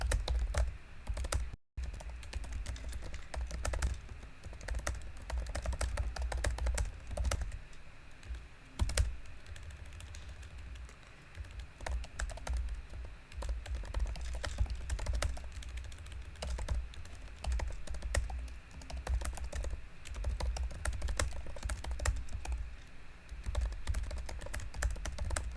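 Steady, rapid clicking of a computer keyboard being typed on continuously at close range, a dense patter of keystrokes with only a brief pause near the start and no voices.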